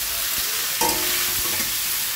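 Potatoes and tomatoes fry in a pan with cumin seeds and bay leaf, a steady broadband sizzle with a brief clatter of stirring near the middle, close and fairly loud, with no talking.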